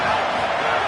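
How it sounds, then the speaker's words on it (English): Loud, sustained roar from a packed stadium crowd at a college football game, Iowa against Minnesota, a dense wall of cheering close and continuous throughout. "The roar of the crowd trying to fuel this defense to keep them pinned in their own end."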